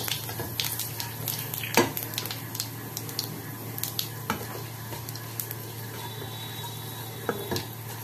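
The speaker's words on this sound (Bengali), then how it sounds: "আবার এটাকে একটু ভাজা ভাজা করে নিলাম।" Panch phoron spices sizzle steadily in a hot pan with dried chilies, broken by occasional sharp scrapes and knocks of a utensil stirring them, close and without talk.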